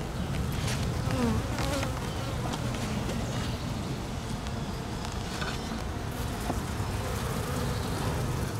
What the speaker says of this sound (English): we've got bees out of a tree